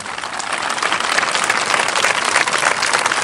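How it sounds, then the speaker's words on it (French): Audience at a prefect's public reception in the Guémon region breaking into sustained, dense applause, a steady wash of many hands clapping throughout. "On acclame très fort, s'il vous plaît."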